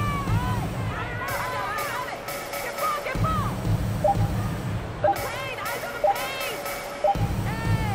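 Home crowd cheers a victory in the basketball video game WNBA 2K23, a steady roar of cheering and whooping with bangs and repeated bright electronic chimes from the arena sound over it.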